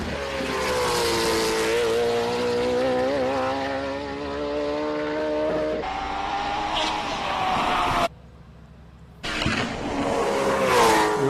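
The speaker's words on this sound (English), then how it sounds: "Perhaps one of the most beautiful sounding cars that we have here." A race car accelerates hard during hill climb qualifying at SIMOLA, its engine note rising and shifting through gears, loud and close, then briefly cutting out before another burst of revving.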